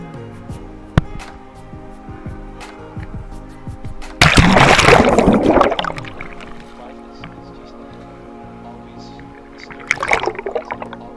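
People jumping into and swimming in the water inside the Blue Grotto on Capri, with a loud splash burst midway and a smaller splash later, while voices talk and echo in the cave.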